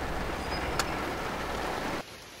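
Steady hiss of rain falling in Kamikochi, Japan, even and continuous, with no talking, before it cuts off abruptly near the end.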